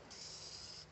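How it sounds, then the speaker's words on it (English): A rattle-can spray paint burst hisses steadily for nearly a second, close and even, used while finishing a CNC-cut fire pit. "These little rattle cans don't really shoot out a good fan pattern."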